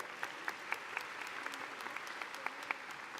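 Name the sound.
graduation audience applauding the principal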